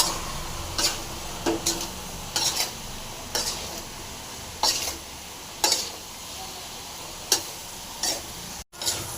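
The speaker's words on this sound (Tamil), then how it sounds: "மிளகு எல்லாமே போட்டாச்சு நல்லா கலந்துடலாம் நல்லா கலந்து ட்ரை ஆகணும்" A spoon scrapes and stirs brinjal with pepper in a pan for a dry dish, about a dozen short, rhythmic strokes over a soft background sizzle.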